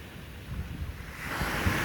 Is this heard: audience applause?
no